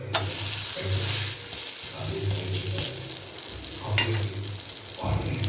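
A rice and coconut roti sizzles on a hot pan with a steady, close frying hiss, interrupted by a few brief scrapes and taps as it is handled and turned.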